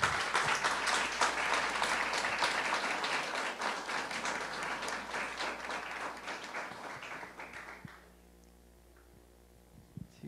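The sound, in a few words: audience applause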